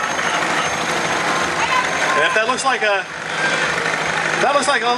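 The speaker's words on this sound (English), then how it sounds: "little bit of an older tractor, yeah, that is indeed. That's a classic 1956 Alice Chalmer" A classic 1956 Allis-Chalmers tractor rumbles steadily in a July 2014 Weare patriotic celebration parade, its engine droning continuously beneath a loud announcer speaking over it.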